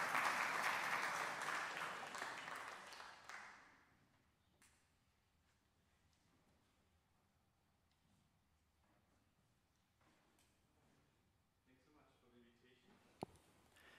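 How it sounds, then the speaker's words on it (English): At a lecture, the audience gives a short burst of applause that fades out within a few seconds, leaving a quiet room with faint murmurs and a sharp knock near the end. "And thank you so much for your applause."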